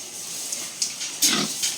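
A farm pig grunts softly before being weighed, giving a few short, faint snorts close by, with the loudest grunt near the end against a quiet hiss.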